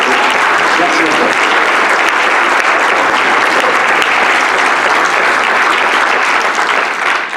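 An audience claps loudly and continuously at a theatre festival awards ceremony in Courchevel, a dense, sustained round of applause close by.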